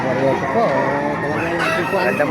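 A rooster crows repeatedly at a busy chicken market in Baliuag, Bulacan, with other fowl clucking and crowing around it under a steady bustle of background voices.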